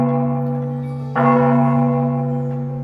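A single bell struck once in a lonely hill area, its rich ringing tone sustained and slowly decaying over a low steady drone, with no voices.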